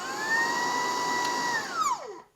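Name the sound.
Dreame R20 cordless stick vacuum cleaner running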